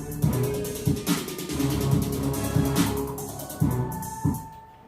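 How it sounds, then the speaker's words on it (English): Music track built in Reason 10 with pitch-shifted snare drum hits sweeping up and down over a busy beat, moderately loud with repeated sharp drum attacks. "I've used a bit of pitch on the snare drums."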